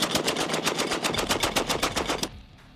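An AA-12 automatic 12-gauge shotgun firing from a 20-round drum, a fast even string of about fifteen loud booming shots in under two and a half seconds, ending abruptly with a brief echo.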